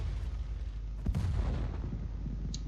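An AMX 13 AM artillery tank in World of Tanks fires a single deep, booming shot about a second in, and a low rumbling tail follows it under a steady background hum.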